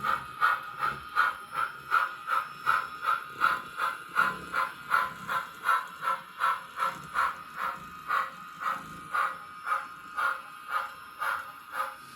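An HO scale model steam locomotive backing up tender first, giving off a rapid, regular chuffing hiss that pulses steadily and evenly, close and fairly quiet, with no voices.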